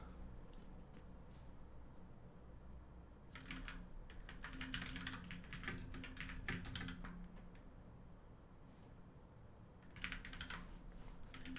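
Typing on a computer keyboard in short bursts of rapid key clicks, spaced apart with quiet pauses between them, close and moderately faint over a steady background hum.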